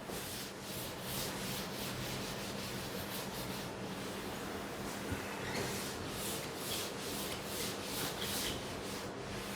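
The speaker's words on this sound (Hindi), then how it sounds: "And I rub it now." An eraser rubs writing off a board in a math classroom, producing steady, close back-and-forth scrubbing strokes in a continuous rhythmic rasp with no talking.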